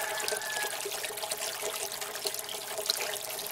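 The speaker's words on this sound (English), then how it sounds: "you can see the water starting to spill over top." Pumped water spilling over the top of an aquaponics siphon during scale testing, a steady close trickle and splash with faint higher drips throughout.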